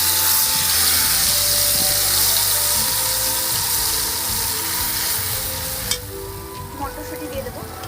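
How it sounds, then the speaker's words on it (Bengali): Soaked spices hit hot oil in a pan and fry with a loud, continuous sizzle and crackle up close, easing slightly near the end as a few stirring clinks come through. "এবার আমি যে ভিজিয়ে রাখা মশলাগুলো দিই।"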